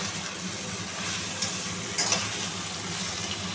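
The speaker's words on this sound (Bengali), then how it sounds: "এবার আমি এটা ঢাকনাটা খুলে একটু নাড়িয়ে দেবো।" Pumpkin greens curry with potato stirred in a pot after the lid comes off: a soft continuous bubbling hiss, with a couple of faint scraping touches near the middle, no one speaking.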